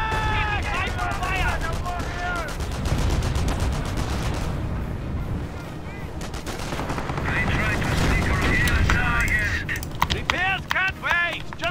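Machine gun fire from MG positions in the WWII strategy game Company of Heroes: Tales of Valor, rapid rattling bursts mixed with heavier booms and distant battle noise, steady and dense throughout.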